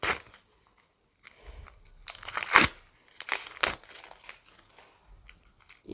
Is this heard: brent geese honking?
no